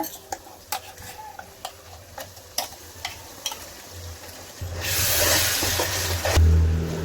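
Ground masala paste frying with onions in a pan for a chicken gravy: a quiet run of tapping spoon clicks, then a louder, continuous close sizzle.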